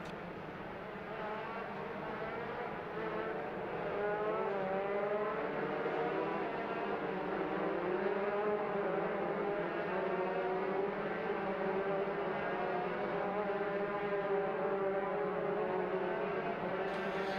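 Race car engines droning steadily as a pack of USF2000 cars rolls toward turn 4 behind the safety car at Mid-Ohio, a continuous layered whine that swells slightly and holds, heard from a distance with no talk.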